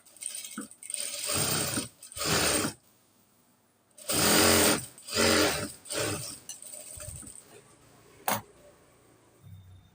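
A sewing machine double-stitches a seam on straight pants in several close, loud bursts of fast whirring, separated by short pauses, with no talking.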